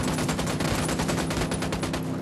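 Ghost Recon Wildlands squad weapons firing together: loud, sustained automatic gunfire, with rapid overlapping shots in a dense, steady volley throughout.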